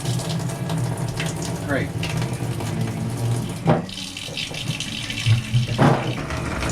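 Coolant gushes from an engine drain, a steady splashing liquid stream running under brief speech.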